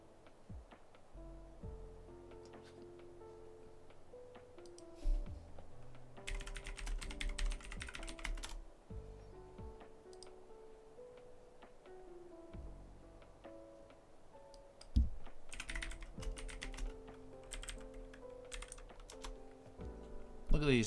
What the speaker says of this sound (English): I'm glad that you enjoy the keyboard, guys. I was actually a little self-conscious about it being so loud.